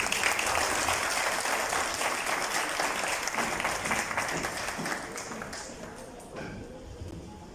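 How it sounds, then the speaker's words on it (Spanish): Warm applause from a crowd at an outdoor artisan fashion show honoring Indigenous peoples, dense clapping holding for several seconds then gradually fading. "Un aplauso, por favor, y se les agradece."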